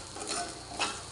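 Curry leaves dropped into hot ghee in a pan sizzle close by, a steady hiss with a brief louder spit near the end, no voices.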